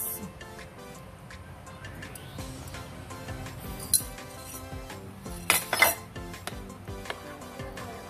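Eggs being mixed in a bowl for a budget home-cooked dish, with light clinks of a utensil against the bowl in an irregular rhythm and a few sharper taps, close by and moderately quiet, with no talking.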